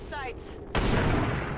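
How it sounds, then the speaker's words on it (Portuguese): A single sniper rifle shot in the XCOM 2 video game, a sharp loud crack that rings out and decays briefly, after a short tonal in-game sound. "E dá aquele tiro de sniper, vai."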